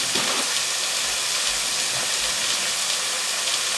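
Pork chops brown in a browning slow cooker, giving a loud, steady broadband hiss of sizzling fat that runs unbroken throughout.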